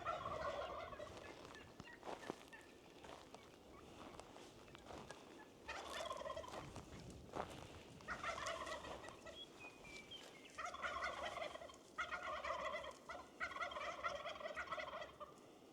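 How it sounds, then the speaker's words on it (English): Turkeys gobble in a series of rattling bursts, somewhat distant and moderately loud, repeating in clusters over a quiet outdoor background. "The turkeys are gobbling over there."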